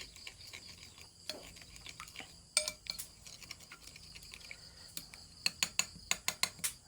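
Ingredients seasoned with salt are beaten together in a bowl, with light scraping and scattered clinks of a utensil against the bowl. Near the end comes a quick, steady series of sharper taps, all close and fairly quiet, with no speech.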